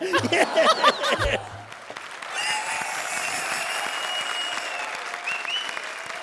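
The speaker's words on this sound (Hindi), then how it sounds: "चलो क्या तालियां बजा रहे हो" A studio audience at a televised comedy show breaks into steady applause mixed with light laughter after a short burst of speech on stage. The clapping continues at a moderate level to the end.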